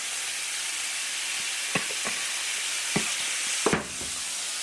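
Food seasoned with cayenne pepper and Old Bay fries in a pan with a steady, close sizzle, broken by a few soft scrapes and clinks as it is stirred.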